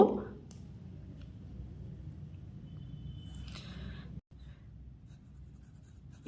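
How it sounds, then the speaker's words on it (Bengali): A pen scratching across paper during a geometry lesson, a steady soft scribble running throughout with one brief pause, faint and close. "তাহলে এখানে আমরা লিখে নেব"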